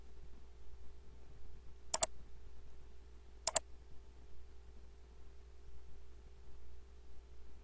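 Two sharp computer mouse clicks, each a quick double snap, sound close and distinct about a second and a half apart over a faint steady hum.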